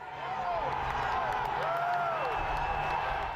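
An agitated crowd of Trump supporters at a riot makes a distant, dense roar of shouts and cheers, with whistle-like rising and falling cries over the din.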